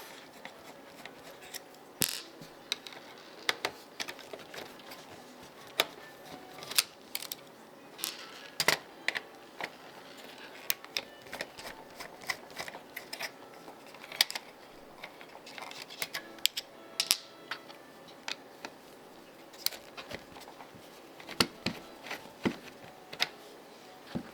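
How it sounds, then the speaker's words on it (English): Small screwdriver clicks and scrapes while the Phillips screws holding the cassette deck in a JVC PC-70 boombox are backed out, a close, irregular run of sharp ticks and metallic taps with no talking. "I'm going to remove these 4 Phillips head screws on the side holding in the cassette deck itself."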